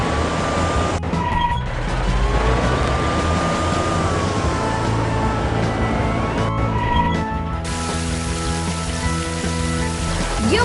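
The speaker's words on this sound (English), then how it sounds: "Quick, drive the fire truck using the arrows to find the fire." A fire truck driving in a children's video game, a continuous engine-like drone with a rising and falling tonal sweep and a few abrupt cuts. It runs steadily for about ten seconds with no talking.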